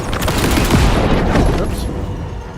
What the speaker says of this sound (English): It's a full auto. Man, it takes a lot of bullets.